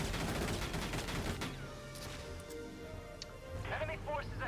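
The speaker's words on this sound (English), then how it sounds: "Gonna take a shot at the Ragnar crate" Gunshot fired at a Ragnar supply crate in Valkyria Chronicles 4, a burst of sharp reports in the first second and a half, then fading tail and game ambience with a voice talking over it.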